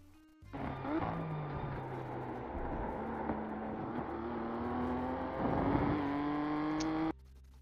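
Race car lapping Cadwell Park, the engine note climbing through the gears, lifting and rising again under hard acceleration, loud and continuous before cutting off abruptly.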